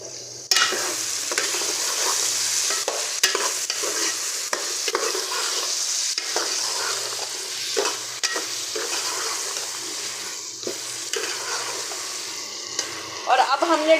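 Potato, pea and carrot mix frying and being stirred in a pan with whole coriander, a steady close sizzle broken by repeated scraping stirs throughout.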